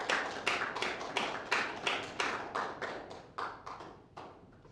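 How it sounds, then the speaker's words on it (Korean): Applause from a church congregation after a sermon, a steady run of hand claps and bursts that rise and fade, then thin out toward the end; no one speaks over it. "설교 마치고 박수 받아본 건 아마 우리 교회에서 처음이신가요?"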